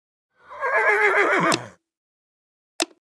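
A horse in the Bibi & Tina riding game gives one loud, clear whinny lasting over a second, falling in pitch at the end. After a pause comes a short sharp click.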